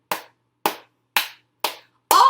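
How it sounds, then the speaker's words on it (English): Hands clap four times at a steady, even beat, each clap sharp and close with silence between, and a fifth louder burst cuts off the end. "now I'm going to speed up the clapping a little bit"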